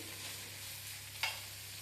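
Ripe red chillies frying in a pan for red chilli chutney, a soft steady sizzle with a low hum underneath and one short clink near the end.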